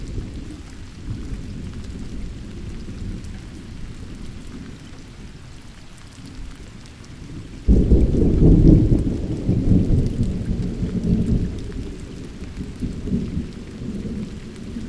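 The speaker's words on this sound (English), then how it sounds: "we're hearing thunder too" Rain falls steadily while thunder rumbles in the distance during a storm around rocky high ground, a long low roll swelling suddenly louder midway and lingering beneath the hiss of rain.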